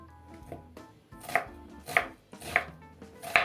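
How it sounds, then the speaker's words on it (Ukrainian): A knife chops onion on a board in steady, evenly spaced strokes, about five crisp thuds, close up with no talking. "Для початку нарізаю цибулю"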